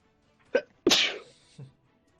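A single sharp sneeze with a short intake breath before it and a soft exhale after, close and clear in a quiet room.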